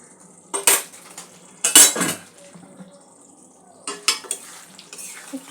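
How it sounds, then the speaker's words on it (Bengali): A spoon stirring cauliflower curry with ghee and garam masala in a pot, a few sharp metal scrapes and clinks in short bursts over a faint simmer, close and without talk. "একটু সব কিছু মিক্স করে নেব।"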